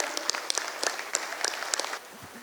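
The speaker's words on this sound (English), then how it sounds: "Please rise to a warm, resounding round of applause to a visionary, a leader." Applause at the IATF 2025 closing ceremony, sharp individual claps in an uneven rhythm over a crowd wash, breaking off after about two seconds.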